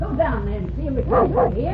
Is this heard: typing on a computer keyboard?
no